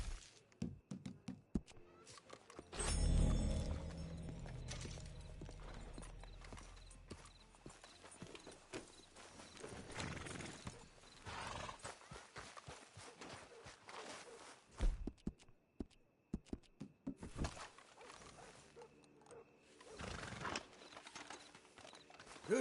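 Horse hooves clip-clop steadily through a ride in Red Dead Redemption 2, an even walking-to-trotting rhythm up close, with a heavy thump early on and an occasional whinny under the game's ambient sounds.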